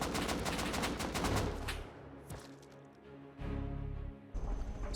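Rapid automatic gunfire rattles in a fast, even stream during a snowy base raid in Rust, then breaks into scattered single shots and short bursts with brief quieter gaps between them.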